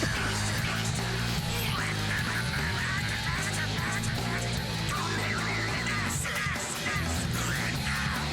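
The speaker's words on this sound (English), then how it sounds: "Why does it sound like someone making a duck quack with their hands like hunters do?" Duck-like quacking calls in a horror video game, resembling a hunter's hand-cupped duck call, repeat in a dense, rhythmic series over a loud, busy layer of game music and noise.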